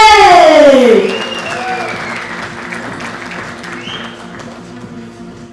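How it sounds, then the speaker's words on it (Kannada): A live crowd at a film teaser launch event applauds Shivanna, loud clapping that peaks at first and then slowly fades while a voice carries over it. "ನಮ್ಮೆಲ್ಲರ ಪ್ರೀತಿಯ ಶಿವಣ್ಣವರಿಗೆ ಬನ್ನಿ ಚಪ್ಪಾಳೆ"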